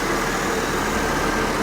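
A car engine with a suspected bad-gas fault idles roughly and unevenly, close up and steady, running poorly as though about to stall, with no talk.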